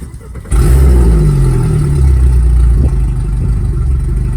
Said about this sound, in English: Now to start these motors, it's just flick the key and away they go.